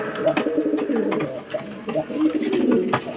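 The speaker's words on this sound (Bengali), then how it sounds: "এই পায়রাটা হচ্ছে গিরেবাজ পায়রা" Pigeons, including Girebaz (tumbler) pigeons, coo in low, throaty murmurs, several birds close by, with soft rustling and shuffling between the calls.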